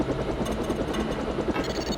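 Helicopter in the game Deus Ex, a loud, steady rotor thrum and engine roar continuing throughout, close and dominant with no talking.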